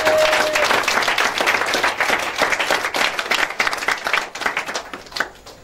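A church congregation bursts into loud, sustained applause during a worship service, dense clapping that gradually thins and tapers toward the end.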